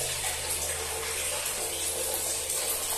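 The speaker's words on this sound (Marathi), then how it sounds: "गिझर चालू केला ना की याला गरम पाणी येतो" Water runs from a bathroom tap in an MTDC hotel room, fed by a geyser. It makes a steady, even rushing hiss with a low hum beneath it, unbroken throughout.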